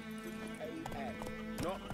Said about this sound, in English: I cannot steer with this horse